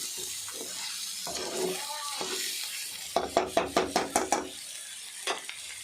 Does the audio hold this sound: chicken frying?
yes